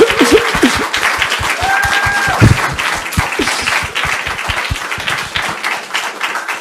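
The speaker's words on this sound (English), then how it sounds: "I would just thank Lucrezia one more time with a round of applause" Audience applause after an academic talk on humanities in the metaverse: steady clapping from a room of people that tapers off toward the end, loud and close.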